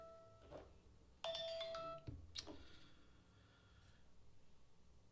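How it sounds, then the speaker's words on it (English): A phone rings with a bright electronic tone, one loud burst of ringing followed by a shorter chirp, fading out into low background hum. "Sorry, I got distracted with the phone call."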